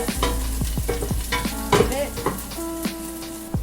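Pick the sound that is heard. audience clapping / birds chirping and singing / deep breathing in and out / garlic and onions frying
garlic and onions frying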